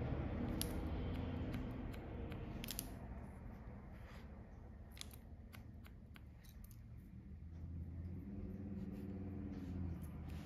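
Scissors point cutting into short hair during an asymmetrical pixie haircut, a quick series of crisp little snips over a steady low background hum, close by, with no talking.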